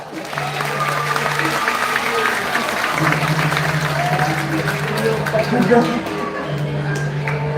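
Applause from an audience at a Balinese Wayang Wong dance-drama performance, steady dense clapping filling the whole stretch, with a low sustained tone and voices mixed in underneath.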